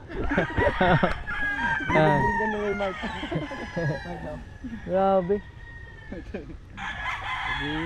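Roosters crow repeatedly and chickens cluck in a rural Philippine yard, loud close calls in quick succession mixed with other birds, while people talk intermittently among the calls.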